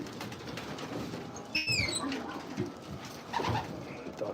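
Racing pigeons in a loft coo softly and repeatedly at close range, with a brief flutter of wings and faint ambient rustling.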